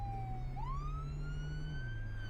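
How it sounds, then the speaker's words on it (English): A police car siren in the Flashing Lights driving game wails in a rising and falling sweep, loud and close over a steady low engine hum. "We're gonna turn off our sirens."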